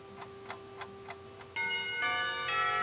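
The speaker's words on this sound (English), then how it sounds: "the bells are signaling the end of lunch break" A school bell in the Katawa Shoujo visual novel rings to end the lunch break: steady soft ticking, then a sustained, bright, ringing chime that swells and holds, moderately loud.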